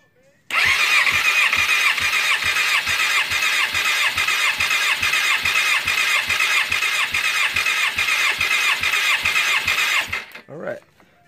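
A 2004–2005 Suzuki GSX-R 750 motorcycle engine cranks over on the starter with its spark plugs removed, a loud, fast, even whirring rhythm of compression pulses lasting about ten seconds before stopping.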